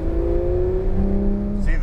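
Porsche 911 GT3 pulling away on a driveway track course, a steady engine drone rising slightly in pitch as it accelerates, close and loud, with speech over the top.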